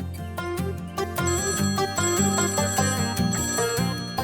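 A phone ringtone plays a bright, repeating electronic melody loudly and continuously, with layered chiming tones and no voices.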